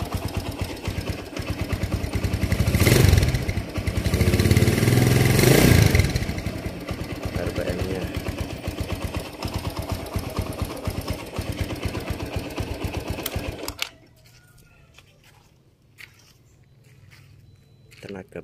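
A 1999 Honda GL Pro Neo Tech motorcycle engine revs and runs with a rapid, rattling idle, growing louder for a few seconds before the sound cuts off near the end.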